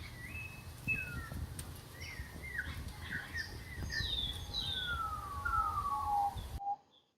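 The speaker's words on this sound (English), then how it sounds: "So this is the parrots in the village" Grey parrots call from an old kapok tree in a Ghana village, giving a run of whistles, rising and falling squawks and chirps over steady background noise, several birds overlapping at moderate distance before the sound cuts off.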